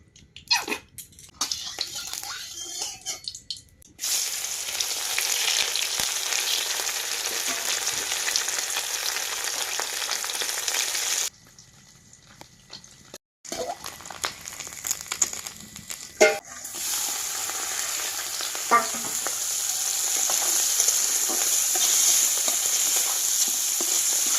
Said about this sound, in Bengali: সব মাছ কিন্তু আমার ভাজা হয়ে গেছে